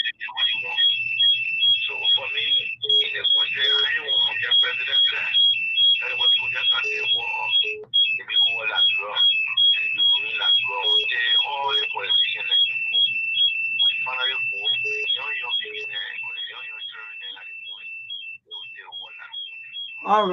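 A phone-in caller's alarm beeps rapidly and insistently, with a piercing electronic tone that runs almost nonstop for twenty seconds over a radio call-in line and only fades slightly near the end.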